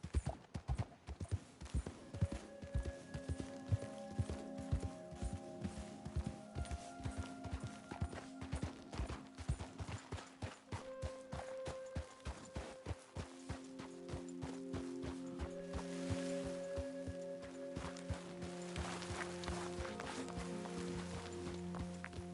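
Horse hooves gallop in Red Dead Redemption 2, a steady fast clip-clop rhythm that carries on throughout, with soft game music tones layered underneath and no talking.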